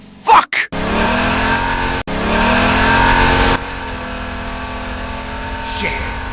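A car chase in an animated short set in the Badlands: a loud engine revs hard and holds a steady roar, with brief sharp bursts near the start, then drops to a lower steady drone. Voices speak over it.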